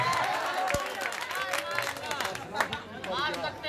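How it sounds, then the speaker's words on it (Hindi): An audience claps and cheers at a stage program, with steady applause mixed with crowd chatter and voices throughout, loud and close. "इनके लिए ताली बजाइए भाई"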